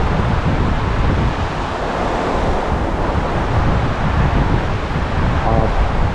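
Fast-running water on the River Dee at Llandderfel in Wales, a loud, steady broadband rush recorded close up during fly fishing, with wind buffeting the microphone throughout and no talk.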